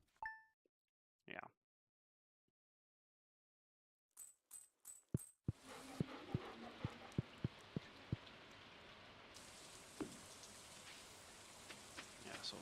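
Rain in the farming video game Stardew Valley: after a few sparse game chimes and plops, a steady soft patter of rainfall sets in, dotted with sharp droplet ticks and occasional dings, fairly quiet.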